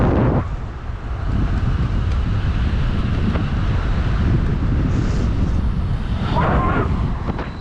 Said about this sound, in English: Now it's an uphill with a headwind, and it's not so nice.